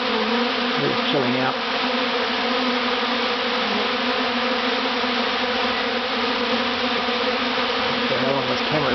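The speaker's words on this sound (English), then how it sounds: "I've got a couple of dozen bees on my hands now." A large honeybee swarm fills the air with a dense, continuous buzzing, close and loud, as dozens of bees settle on a person's hands; a voice speaks briefly over the drone.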